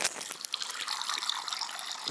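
Water pours from a 10-liter jug for mead, a steady close trickle and gush running without pause.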